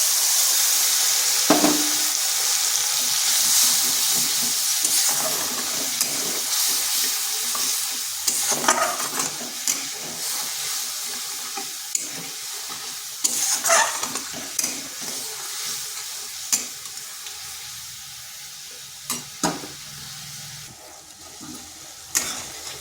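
Spice paste fries for a cauliflower curry in a loud, hissing sizzle broken by repeated spoon scrapes and clacks of stirring, and it gradually settles and fades toward the end.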